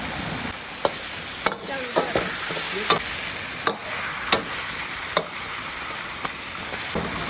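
Dried chillies and spices stir-frying in a wok, a continuous close sizzle broken by regular scraping strokes of the spatula, with a brief spoken word.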